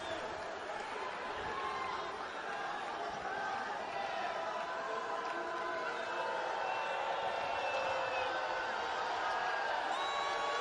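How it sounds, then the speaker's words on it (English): Arena crowd at a college basketball game, Oakland at Detroit Mercy, jeering and murmuring steadily after a foul call on a shot, a broad continuous wash of many voices with scattered shouts throughout. "The crowd with a jeer."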